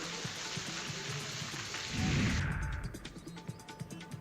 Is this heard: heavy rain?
yes